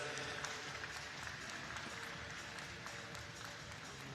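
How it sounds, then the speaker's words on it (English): Spectators at a swimming championship pool give a light, scattered round of applause as 1500 m freestyle swimmers finish their heat, a steady distant clatter of claps in a reverberant hall. "London give them a smattering of applause as they come into the wall"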